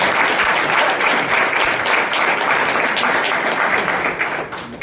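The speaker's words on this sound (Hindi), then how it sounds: "एक बार डॉक्टर साहब के लिए फिर से ताली बजाएंगे।" A crowd claps loudly and steadily throughout, dense applause that tapers off slightly at the very end.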